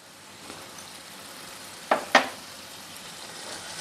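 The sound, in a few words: cooked chickpeas stirred into frying spice paste and oil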